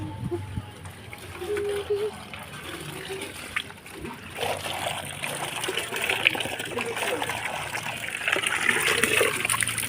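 Water runs and splashes from a roadside street tap into a container, a steady trickling gush that grows louder toward the end, with a voice talking nearby and faint street sounds.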